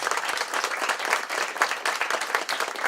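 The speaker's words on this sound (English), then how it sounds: "So I'd like a round of applause for these folks" A crowd applauds, dense steady clapping from many hands filling the room for a few seconds.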